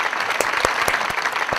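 Studio audience at a televised tribute gives a brief round of steady applause, dense clapping with a few sharper slaps standing out.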